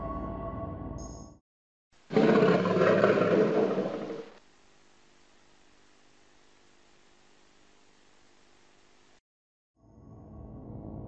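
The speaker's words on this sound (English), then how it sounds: "The red screen that pops up, followed by a slightly louder roar, would scare those who are not accustomed to it." Atari Jaguar console red-screen error roar: a loud, dense, rumbling burst lasting about two seconds, then a quieter steady hiss, with other sound before and after.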